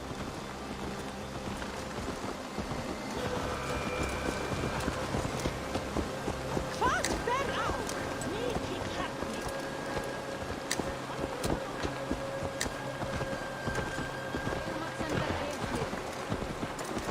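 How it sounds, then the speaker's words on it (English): Horse hooves clip-clop steadily in Assassin's Creed Valhalla, blended with wind and ambient game noise, while voices talk intermittently over the scene. "Let's return the horse."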